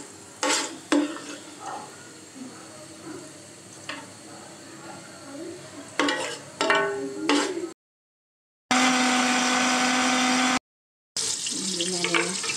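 Light-browned ingredients and tomatoes for paya ground into a paste in a grinder, loud bursts of dense whirring separated by gaps, after a stretch of stirring and clinking.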